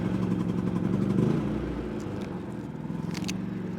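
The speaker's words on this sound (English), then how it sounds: "I'm gonna turn on the generator here" A portable generator running off the back of a truck bed detailing setup chugs steadily with a low, throbbing engine drone, loud and close, with faint clicks over the top.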